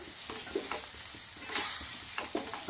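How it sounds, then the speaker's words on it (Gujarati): Carrot, baby corn and chillies with Kashmiri red chilli powder are stirred in a hot pan: soft sizzling runs under repeated scraping strokes of a spoon, close and fairly quiet, with no voices. "હવે આપણે આને સરસ મિક્સ કરી દઈશું"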